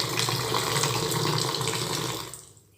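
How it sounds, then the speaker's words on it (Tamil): Water poured from a tumbler held high into a pot while making ghee, a steady splashing gush that runs for about two seconds, then tapers off and stops. "தண்ணி எடுத்து இப்படி நல்லா மேலேருந்து இப்படி தூக்கி ஊற்றுங்க."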